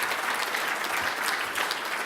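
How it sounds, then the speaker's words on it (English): Audience applause at a live civil service event, a steady, dense clapping from a crowd sustained throughout without pause. "Applause for Anna, please."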